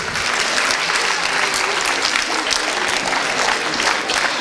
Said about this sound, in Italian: vorrei un grosso applauso per questi ragazzi